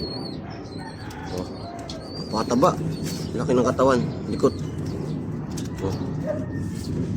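Pigeons being handled coo softly in short bursts close by, with faint wing flutters, while someone talks over them throughout.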